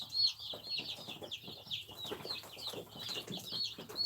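Young chicks on a farm cheep continuously in high, busy chirps, with occasional lower clucks and soft rustling mixed in, close up and fairly quiet; no talking.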